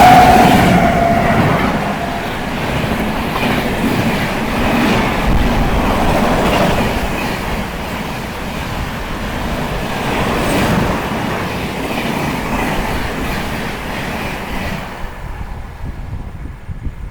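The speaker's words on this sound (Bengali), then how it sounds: "আর দেখো একটা ট্রেন আসছে ফুল স্পিডে" A crossing train rushes past a rain-wet station platform at full speed, a loud sustained rumble with rhythmic wheel clatter that holds for many seconds before cutting off abruptly.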